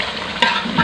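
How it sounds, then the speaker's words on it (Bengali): Spice paste frying and being stirred in a pan over a smoky village stove for a traditional Barisal dish, a steady close sizzle with scraping stirs that swell briefly near the middle and again at the end. "এই মশলাটা একটু বেশি করে কষাবো,"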